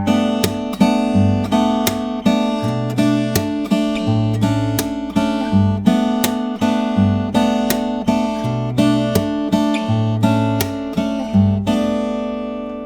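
Percussive acoustic guitar in an alternate tuning plays a steady, looping pattern of low bass notes, strummed chords and sharp string slaps, close and moderately loud with no voice.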